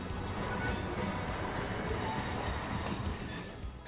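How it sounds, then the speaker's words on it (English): A toy train rolls past, a steady rumbling clatter of wheels on track heard fairly close with faint squealing, fading slightly at the end. "Here's the kind of train we need in America, a sleek, state-of-the-art, high-speed train."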